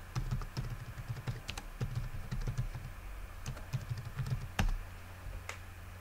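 Computer keyboard typing in an indoor setting: a steady run of close, quick key clicks with short pauses between bursts and a few louder strokes, no speech.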